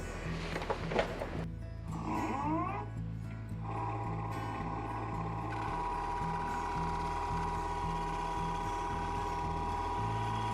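A woodturning lathe hums steadily while a tool shear-cuts a maple salad bowl, with brief scraping bursts early on over the constant low motor drone.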